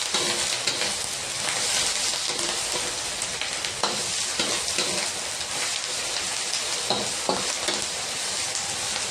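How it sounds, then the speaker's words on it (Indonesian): Tofu filling with mustard greens and other vegetables sizzles steadily in a frying pan, with intermittent scraping clicks as a spatula stirs it; close and continuous, no talking. "Kita aduk lagi ya."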